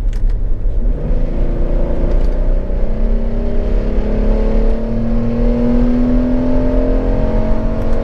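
A Porsche Cayenne 3.2 engine revs while driving, its deep rumble rising and falling through several smooth pitch sweeps over a constant low road roar, loud and close with no talking.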